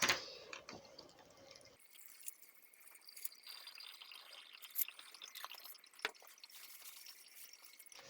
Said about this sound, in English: I'm just going to pour the contents of the jar through the filter.